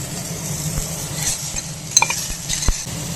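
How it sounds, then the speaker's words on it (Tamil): Chopped onions with mustard seeds and cumin sizzle in hot oil in a pan for a gravy, a steady hiss broken by a few sharp spoon scrapes and taps against the pan. "இது கருகிறதுக்குள்ளே நம்ம வெங்காயம் பச்சை சேர்த்துக்கலாம்."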